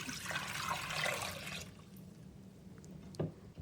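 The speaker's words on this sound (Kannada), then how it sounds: "ಕುಕ್ಕರ್ಗೆ ಹಾಕಿಬಿಟ್ಟು ಇದಕ್ಕೆ ನೀರು ಹಾಕ್ಕೊಳಕತ್ತೀನಿ" Water pours into a pressure cooker in a steady rushing stream for about a second and a half, then stops, leaving quiet background and a brief clink near the end.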